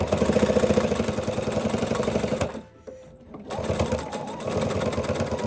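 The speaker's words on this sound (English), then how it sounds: "So I'm just gonna stitch it up." A sewing machine stitches a pillow seam close up, a fast rattling whir that stops briefly, then resumes for back-and-forth reinforcing stitches.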